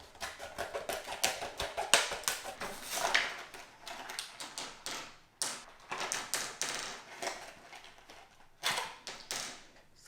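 AA batteries snapping and clicking into the battery tray of a 2020 Browning Recon Force Edge trail camera, heard as a rapid series of close, sharp plastic clicks and taps with brief pauses.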